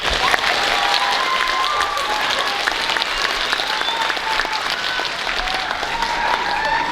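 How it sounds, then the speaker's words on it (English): Sustained audience applause at a middle school winter band concert, welcoming the eighth grade band; steady, dense clapping from a full room that holds at an even level for the whole stretch, with no talk over it. "Let's give them a round of applause."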